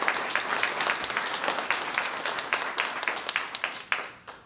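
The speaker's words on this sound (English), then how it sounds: "Let's first give a big round of applause to Heath in the back" A modest room of people at a radio club meeting claps for a few seconds, the individual handclaps distinct and uneven before they thin out and stop.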